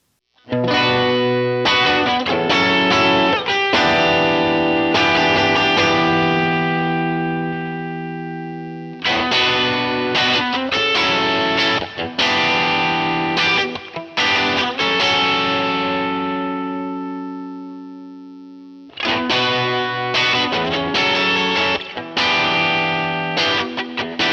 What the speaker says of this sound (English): let's check out how the hard clipping circuit sounds with the Bluesbreaker overdrive